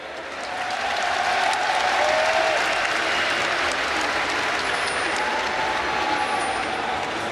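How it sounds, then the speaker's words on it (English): A crowd at a European regional esports event applauds and cheers loudly, a dense sustained wash of clapping that swells after the first second and holds steady to the end, with faint voices mixed in. "Let's give a nice round of applause here for ACER Poland."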